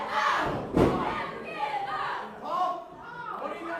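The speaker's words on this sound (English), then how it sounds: "listen to that crowd. The crowd chanting, "Never give up."" A crowd at an independent wrestling event chants and roars loudly, with a sharp thud from the ring early on and an announcer talking over the noise.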